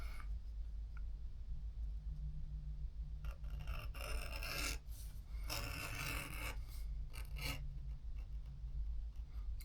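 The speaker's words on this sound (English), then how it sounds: "I show you how to use a string to pull through with compound on it" String coated with polishing compound drawn back and forth through the inside of a leather knife sheath, a steady rasping rub in repeated bursts, close and fairly loud over a low background hum.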